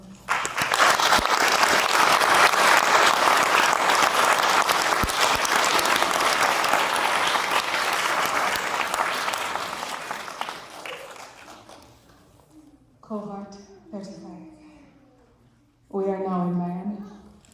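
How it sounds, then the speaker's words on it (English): Graduates at a university commencement ceremony applaud themselves in a loud, sustained burst that fills a large hall, tapering off after about ten seconds before a speaker resumes talking. "Please give yourselves a round of applause."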